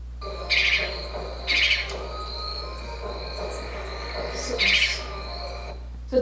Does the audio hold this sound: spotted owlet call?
yes